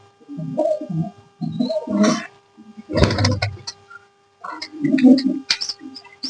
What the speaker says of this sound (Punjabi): ਇਹ ਵੀ ਰਾਜਨ ਵਾਲੇ ਕੂਤਰਾਂ ਦੀ ਹੈ